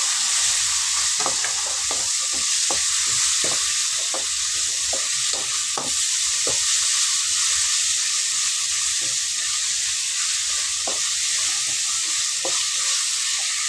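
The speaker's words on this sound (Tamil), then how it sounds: "வதக்கிட்டு ஸ்டவ் ஆஃப் பண்ணிடுவோம்." Vegetables with tomato sauté in a pan for a veg kurma, a constant bright sizzle punctuated by frequent sharp clicks of a spoon stirring against the pan, close and without talk.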